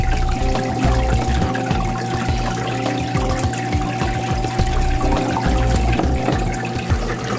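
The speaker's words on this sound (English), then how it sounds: "we're going to take the cleaner and pour it behind the curtain about 2 ounces." Cleaner poured behind the water curtain of a Manitowoc Indigo ice machine, heard as a continuous wash of running, pouring water under a steady machine hum and pump whine, loud and close.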